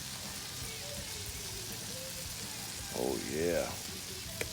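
Catfish sizzles in butter on a 22-inch Blackstone griddle, a steady dense hiss and crackle that continues under a short spoken remark.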